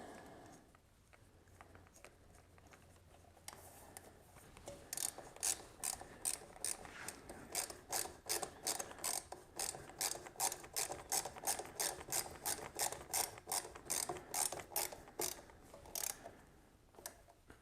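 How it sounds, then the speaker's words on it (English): Ratchet driving a screw into the front end of a 1978 Honda Trail 70, a rapid run of close, crisp clicks in steady rhythm after a quiet start, with no talk. "Get our screw started."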